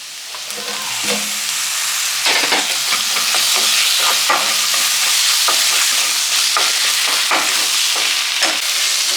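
Tomatoes added to onions frying in a pan for a Kerala-style squid roast, with continuous sizzling and hissing broken by repeated scraping, clattering stirs, close and loud.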